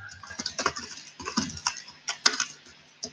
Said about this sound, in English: you could probably hear me typing, which is not great.